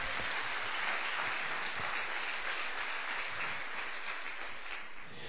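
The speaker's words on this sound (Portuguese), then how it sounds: "Dê uma salva de palmas ao Senhor." A church congregation gives sustained, dense applause during a service, a continuous wash of many hands clapping at an even, full level from start to finish.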